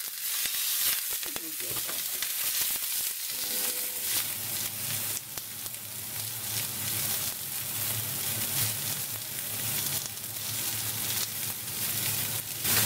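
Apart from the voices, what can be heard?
rump steaks sizzling in a hot frying pan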